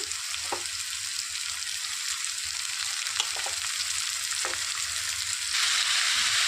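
Thinly sliced cabbage frying with browned onions in a pan for a cabbage chana dal curry, a steady loud sizzle with a few faint stirring clinks, swelling slightly near the end.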